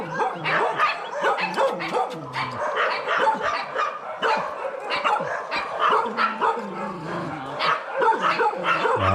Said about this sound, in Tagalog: Daming aso.